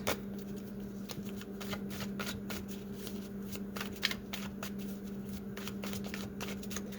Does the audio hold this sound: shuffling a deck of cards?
yes